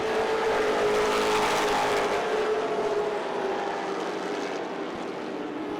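Late model race cars at Irwindale Speedway, a short track, roar past close by in a loud, continuous engine wail that fades slightly over several seconds, with no voices heard.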